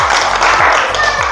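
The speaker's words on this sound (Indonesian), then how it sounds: "Oke, give applause please." Applause from a classroom of students, a dense wash of many hands clapping together steadily at moderate loudness, with some voices mixed in.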